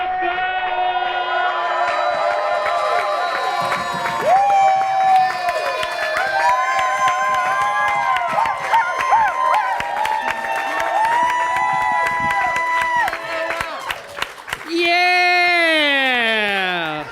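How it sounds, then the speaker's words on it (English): A comedy club crowd cheers, whoops and claps for comedian Noah Copfer, loud and close, with many overlapping shouting voices and a burst of high yelling near the end. "get the round of applause going for my man, Noah Copfer!"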